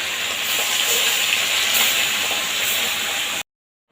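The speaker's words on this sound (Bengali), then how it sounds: "এবার মাছগুলো আমি একে একে ভেজে নেব একটু লাল লাল করে ভাজবো" Bata fish pieces rubbed with salt and turmeric frying in very hot oil make a dense, loud, continuous sizzle and hiss that stops abruptly near the end.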